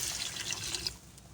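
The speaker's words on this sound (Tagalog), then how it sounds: "So, maglagay na tayo ng tubig." Water poured into a cooking pot for mung beans, a brief close hissing splash that trails off after about a second.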